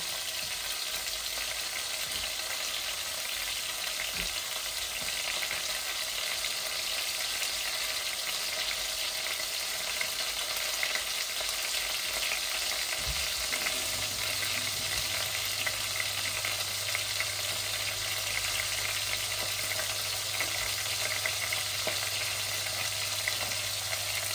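Tilapia fish frying slowly in a pan on a stove, a steady broadband sizzle throughout at moderate level, with a low steady hum joining in partway through; no talking.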